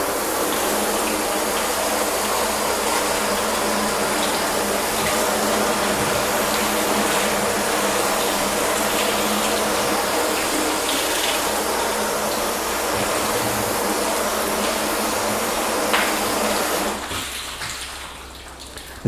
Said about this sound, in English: And we'll now re-rinse